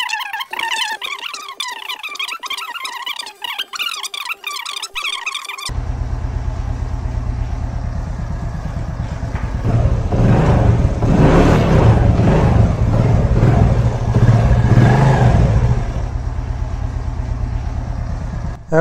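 A 110cc motorcycle engine after reassembly, first a rough stuttering run, then a sharp cut to a steady close idle that revs up louder in the middle and settles back down.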